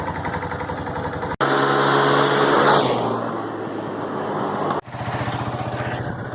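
A Kawasaki Bayou 250 ATV that was broken and then repaired runs just after being pull-started. Its engine revs up loudly, settles back, and then idles with a steady, close putter. There is no talking.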